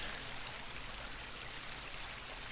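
Steady rushing and trickling of flowing water in Minecraft, a constant soft wash with no voices.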